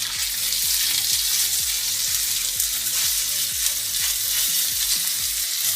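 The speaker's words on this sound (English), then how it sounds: "now our sofrito is ready, and we add the mince" Minced meat frying with sofrito in a pan for a ragù, a loud steady sizzle up close with rhythmic scraping as the mince is stirred and broken up.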